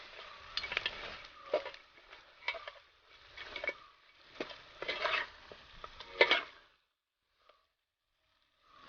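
Crushed ginger, garlic and shallots hit hot oil in a pan for chicken kadai, giving a close crackling sizzle broken by repeated stirring scrapes, which stops abruptly and leaves near silence.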